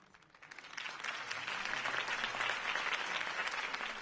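Crowd applause at a campaign rally for Harvey Dent in a PS4 video game, swelling in after a brief quiet start into a dense, steady roar of many hands clapping that holds to the end.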